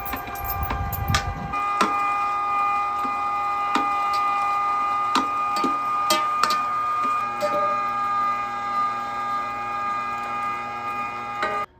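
A grinder runs steadily as chili ingredients for a no-bean Texas-style chili are fed in a bit at a time, giving a sustained mechanical whir with intermittent ticking and clattering and a brief low rumble at the start.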